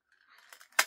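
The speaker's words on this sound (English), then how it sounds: "And then I'm going to just cut" A single quick snip of scissors cutting paper during a paper flower craft, brief and fairly faint, arriving near the end after a soft rustle.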